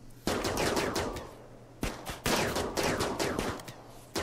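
Colonists in the video game RimWorld firing guns at an insect hive, two loud sustained bursts of rapid automatic fire separated by a short pause, with a third burst starting at the end.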